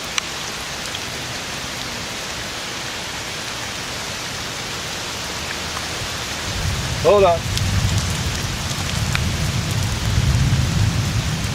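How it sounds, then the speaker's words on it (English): Steady rain falls outdoors in a hillside cemetery, a dense hiss that thickens and grows heavier partway through, with a brief voice heard under the downpour. "It's raining"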